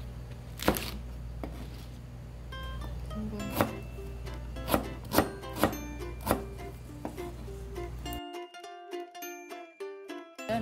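Knife chopping chili peppers on a cutting board in quick irregular strikes, close and crisp, with a brief spoken word partway through.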